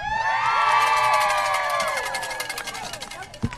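A visiting crowd in high school football stadium bleachers at Cave City, Arkansas, shouts and whoops together in a loud burst that gradually trails off, with scattered voices and a single thump at the end.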